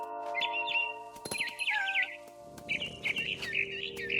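Bird chirping in the video game What Remains of Edith Finch, several bright warbling tweets in two bursts over a low steady ambient hum, close and clear.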